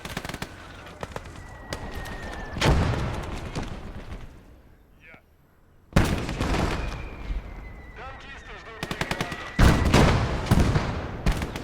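Bazooka blasts and rapid gunfire in the multiplayer WWII video game Gates of Hell, infantry battle between Soviet and Hungarian forces; loud bursts of automatic fire and heavy explosions come in clustered volleys, separated by a brief quieter lull.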